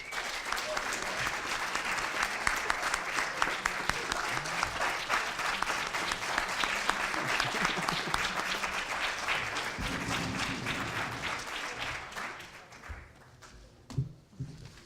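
An audience at the 2018 CT Civic Ambassadors Summit applauds in a dense, sustained round of clapping that fades out near the end, with a few scattered claps after.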